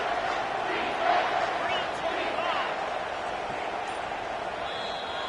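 A stadium crowd in a football video game roars steadily and loudly on a third-down play, a broad wash of cheering throughout.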